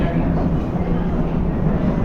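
Inside a moving train, a loud, continuous low rumble and rattle of the carriage fills the space without a break.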